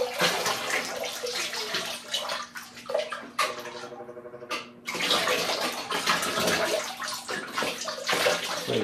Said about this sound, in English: I'm going to pour the glaze